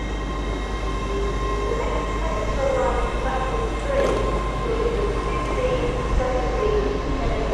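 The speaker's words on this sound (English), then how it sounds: "To pass in now is your 1456 LNER Zoomer service from Aberdeen to London King's Cross" An LNER Class 800 Azuma train from Aberdeen to London King's Cross passes through York station, a loud continuous rumble with wheel squeal and steady rail noise throughout, close by and dominating.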